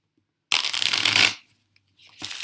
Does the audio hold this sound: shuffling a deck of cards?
yes